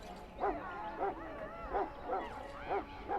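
Mabari war hound from Dragon Age: Origins barking repeatedly, about five loud barks at a steady rhythm over low ambient background, with a brief vocal whine between.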